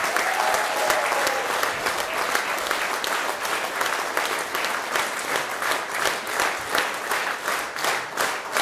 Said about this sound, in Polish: Jeszcze raz wielkie brawa dla wszystkich artystów